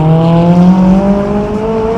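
A McLaren 570S Spider accelerates hard through city streets, its engine note climbing in steady rising tones as it pulls through a gear change, loud and close.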